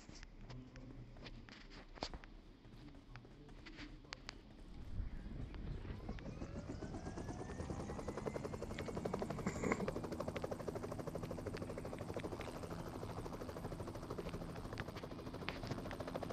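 A helicopter in the video game PUBG Mobile approaches, its rapid rotor chop building from faint to a loud, steady thrum that fills the rest of the clip, with a few light ticks and taps early on.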